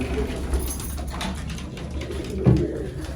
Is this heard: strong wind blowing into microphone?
no